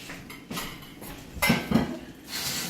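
Dish being washed at a kitchen sink while an egg fries, with intermittent clinks and clatters of dishes and cutlery, a few sharp knocks over a soft background.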